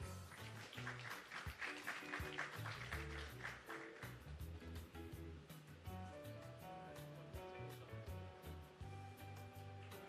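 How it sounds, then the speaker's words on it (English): Audience applause fills a handing-over ceremony in Shrewsbury Petersfield, Westmoreland: a sustained, faint wash of clapping that runs for the full ten seconds over an underlying bed of music. "Keep that applause going as well for Amoy Evans and Constance Hudson."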